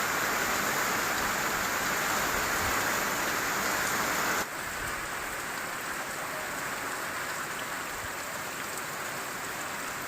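Torrential rain in a storm pours down as an unbroken, even hiss. It drops slightly in level partway through, and no one speaks.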